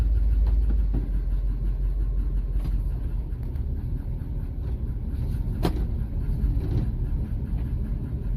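A 1971 Ford F100 pickup truck engine idles steadily nearby with a low rumble, joined by occasional clicks and knocks.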